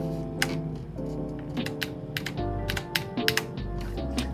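Typing on a mechanical keyboard fitted with new switches: a fast, irregular run of crisp clacks and key strikes, close and clear, with no speech.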